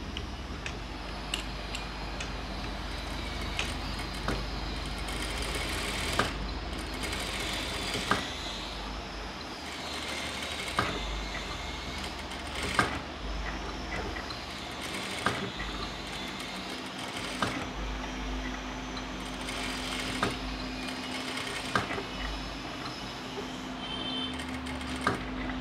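Sewing machine stitching around canvas for a chudidhar top, a soft steady run of rapid ticking stitches with short pauses and occasional sharper clicks, fairly quiet and without talk.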